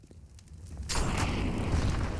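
A grenade goes off in CS:GO on the Mirage map during a competitive esports match: a faint rattle, then a sudden loud blast that swells into a sustained, roaring rumble.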